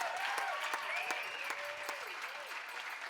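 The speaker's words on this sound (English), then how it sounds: "let's give Gordon's mom and dad and the trust a big round of applause for that matching funds" Applause from a fundraising gala audience, steady and full for about three seconds, with a faint tonal whistle-like line running underneath.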